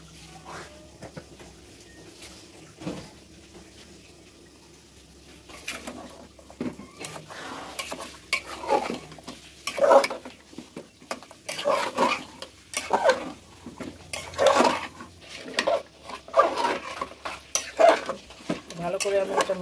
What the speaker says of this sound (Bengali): এখন এটা আমি ভালোভাবে মিশিয়ে নেব।